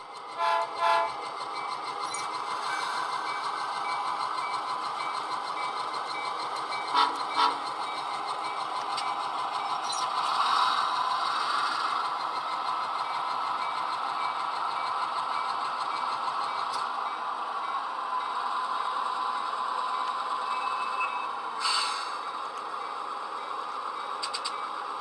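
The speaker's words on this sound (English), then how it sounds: "let's go run some trains" Model train locomotives on a DCC-EX layout rolling steadily along the track with a continuous hum and light rail clatter, broken by a few short horn toots and sound-effect blasts, heard alone at moderate level.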